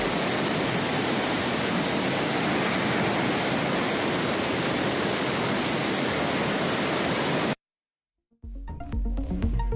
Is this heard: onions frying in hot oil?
no